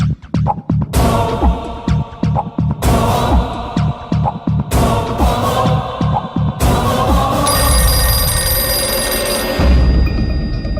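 A telephone rings in repeated bursts over about eleven seconds in a comedic film scene, each ring loud and close, with a steady background of music or room sound between rings.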